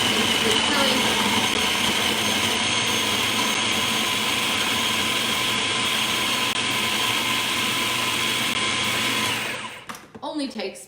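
A food processor blends ingredients with chives for grilled cheese in a loud, steady, high whirring drone for about nine seconds before it winds down and stops, followed by a few short clatters.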